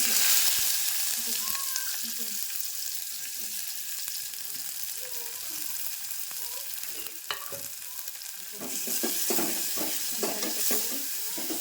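Chopped onion fries in a pan with crackling cumin and mustard seeds, a steady close sizzle with soft spatula stirring that grows louder and busier near the end, faint voice murmurs underneath.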